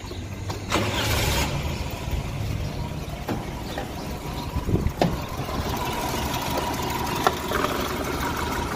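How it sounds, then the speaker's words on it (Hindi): A car with a distributor (delco) fault starts up and settles into a steady idle, the engine running continuously and fairly loud with a few sharp clicks and knocks over it. "ये देखिए गाड़ी बिल्कुल नॉर्मल स्टार्ट है"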